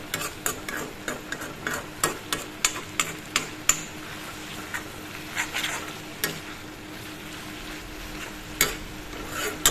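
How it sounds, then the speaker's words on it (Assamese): A spoon scrapes and stirs leucas aspera curry with fish in a pan, a run of sharp, regular clicks and knocks close by over a soft sizzle, thinning to a few scattered taps. "এনেদৰে তল ওপৰ কৰি লৰাই থলোঁ।"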